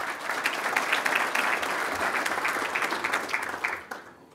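Applause at an Icelandic golf association assembly as elected court members are announced, a steady dense clapping from the hall that holds evenly for about four seconds before tapering off at the end.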